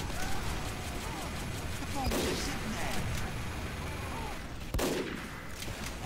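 Sniper rifle shots ring out in the video game Team Wars 2 during a sniper duel, with two or three sharp cracks spaced a couple of seconds apart over a busy game soundscape of ambient noise and faint chatter.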